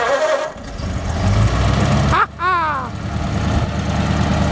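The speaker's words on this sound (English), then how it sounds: "We'll let you hear him fire it up here." Engine of a Brizio-built 1932 Ford Firestone roadster cranking and catching, then settling into a loud, steady idle close by.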